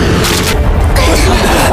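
An explosion in an animated Chinese fantasy film, heard as a loud, dense booming rumble lasting under two seconds with voices mixed in.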